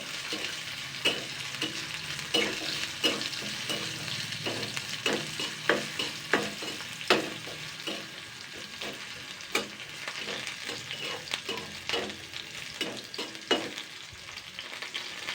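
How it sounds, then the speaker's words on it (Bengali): Thinly sliced vegetables and green chillies are stir-fried in a pan, bringing a steady sizzle with frequent sharp scraping and clinking strokes of a spatula, close and fairly loud, no voices. "দুখানা কাঁচা লঙ্কা নিয়েছি এগুলো দিয়ে দিচ্ছি জাস্ট এক দু মিনিট একটু নাড়াচাড়া করে নেব"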